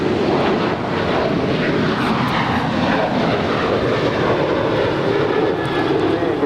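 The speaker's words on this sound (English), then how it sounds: "This is Alaska Airlines Flight 1373 departing to Portland. It's a 3-year-old 737-900ER." Alaska Airlines Boeing 737-900ER departing Los Angeles International Airport, a loud, steady broadband jet engine roar filling the whole moment with no voices over it.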